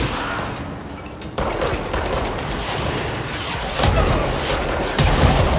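Rockets and gunfire in the video game Control: dense, continuous booming fire with several louder bursts toward the end, loud and close.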